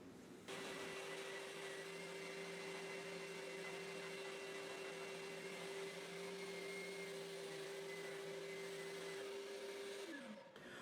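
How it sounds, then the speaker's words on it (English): An orbital sander works over a plywood Les Paul-style guitar body, giving a steady, close motor whine with a constant hum. The whine holds evenly for about ten seconds, then winds down as the sander stops. "when you're using an orbital sander"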